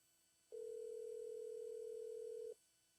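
During a cold call, a single steady telephone tone sounds for about two seconds, clear and electronic, over a faint background hum.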